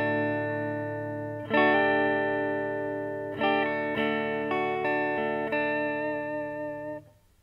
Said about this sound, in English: Basically, I'm running through my pedal board, but nothing is turned on. So let's go ahead and check out how that sounds. Again, this is the neck pickup.